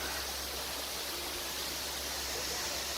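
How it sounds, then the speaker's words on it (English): Small waterfall at Tegenungan in Bali, a steady broad rushing hiss of falling water that stays constant throughout, fairly close and with no voices. "So this is another one small waterfall"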